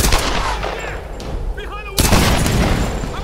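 A gunshot in Tomb Raider Definitive Edition lands as one sudden loud blast partway through, ringing out over busy game action sounds.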